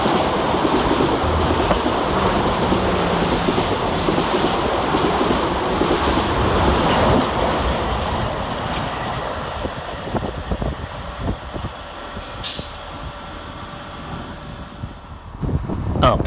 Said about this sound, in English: Next to pass fast through the station is 444014 and 444019, working 1 Whiskey 27 for South Western Railway from London Waterloo